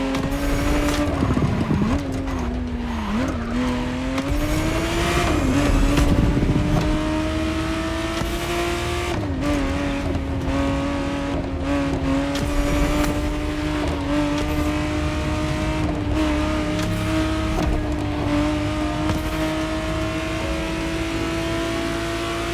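A 1991 re-engineered Ferrari Testarossa in The Crew Motorfest video game drives with a steady, loud engine drone, rising and falling with gear changes and acceleration, the tone climbing and settling as it cruises.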